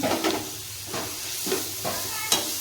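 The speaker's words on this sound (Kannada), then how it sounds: "ಇದರಲ್ಲೇ ಈಗ ನಾನು ಹಸಿಮೆಣ್ಸಿನ್ಕಾಯಿ ಪೇಸ್ಟ್ ಮಾಡಿರೋದನ್ನು ಫಸ್ಟು ಸೇರಿಸ್ತೀನಿ." Green chilli paste sizzles in a frying pan and is stirred, with soft, rhythmic scraping bursts about every half second over a faint, close hiss.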